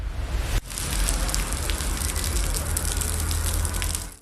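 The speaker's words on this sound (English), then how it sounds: "Rain was falling on just one small patch of road, while everything around it stayed completely dry." Steady rain falls on a small patch of street, a dense close hiss and patter that starts after a brief thump and continues unbroken.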